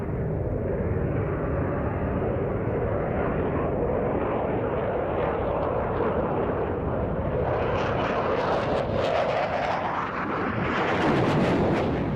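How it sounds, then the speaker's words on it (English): A twin GE-engined military jet roars through an air show manoeuvre at RAF Fairford, a continuous loud jet rumble that swells and rises in pitch as it pulls up from a slow fly-past. "using the power of those two big GE engines to go straight from the slow fly past into what looks like a loop"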